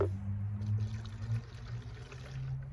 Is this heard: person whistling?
no